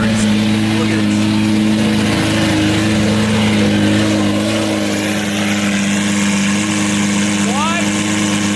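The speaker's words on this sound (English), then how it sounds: "check out how ridiculously loud this car is" A supercar engine idles loudly and close by, a steady deep drone with strong harmonic tones that barely changes, with voices partly under it.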